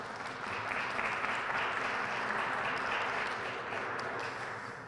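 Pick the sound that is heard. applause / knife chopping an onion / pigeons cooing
applause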